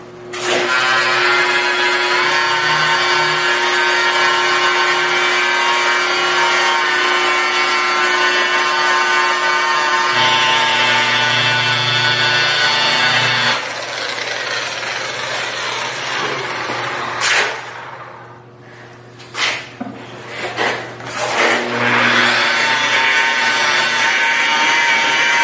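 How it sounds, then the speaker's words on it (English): A steady, loud whirring hum of a rotary polisher at 1500 to 2000 RPM with a foam composite pad buffing black car paint with rubbing compound, shifting pitch midway, then stuttering and revving in short bursts near the end. "I'm just going to go over the entire car now with the same rubbing compound in the foam composite pad"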